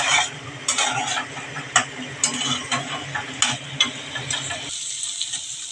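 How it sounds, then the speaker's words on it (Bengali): Shrimp stir-fried in a pan for a Bengali ridge gourd and prawn dish, with a steady sizzle and repeated sharp scrapes and clicks of a spatula against the pan until the stirring stops near the end. "এবার চিংড়ি মাছগুলো দিয়ে 2 মিনিট কষাবো।"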